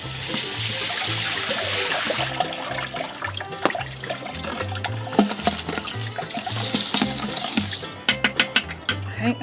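Wild clay being rinsed with water, sloshing and splashing steadily up close, with a brief gap and a few sharp knocks from rocks near the end.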